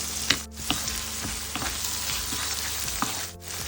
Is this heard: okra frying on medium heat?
yes